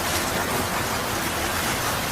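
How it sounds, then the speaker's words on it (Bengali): Steady, dense rush of rain with a windy storm roar, a cartoon sound effect of a fierce storm outside a house, continuous and fairly loud with no voices. "দেখো না মা, বাহিরে কত ঝড় বৃষ্টি হচ্ছে।"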